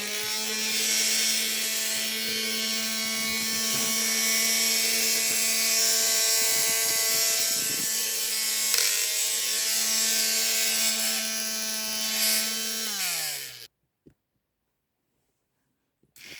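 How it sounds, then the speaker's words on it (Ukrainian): A small homemade mini angle grinder whines at a steady high pitch for several seconds, then spins down and cuts off, followed by near silence and a click. "Ось така болгарка в мене вийшла."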